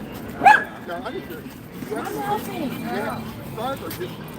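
A dog gives a short yip and bark near the start, then whimpers and small yelps under ongoing background talk from nearby people.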